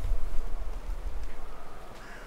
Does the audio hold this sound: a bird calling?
yes